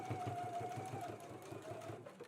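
A sewing machine stitches a 5/8-inch seam on a dress, giving a quiet, steady whirring hum with a rapid needle rhythm for a couple of seconds.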